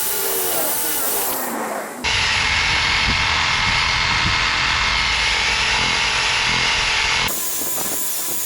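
A reciprocating saw cuts through fallen tree branches, a loud, steady buzzing whine running for about five seconds with a rattling edge, starting and stopping abruptly amid quieter outdoor background.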